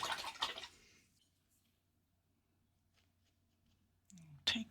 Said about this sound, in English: Another rinse of the brush.